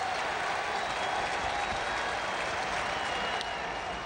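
Cheering from the crowd at a Cardinals vs Mets baseball game in an extra-inning tie fills the stadium as a steady roar, a dense wash of voices and clapping with no clear pauses.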